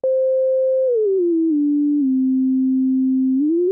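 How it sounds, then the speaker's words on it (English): A sine sweep pitch-corrected by Auto-Tune Pro at a retune speed of 20 steps downward in distinct major-scale notes, holds a steady low tone, then glides back up at the end. It is clean, loud and continuous, with no voices. "if I engage Autotune with the stock retune speed of 20, you'll begin to hear the delineations of a major scale."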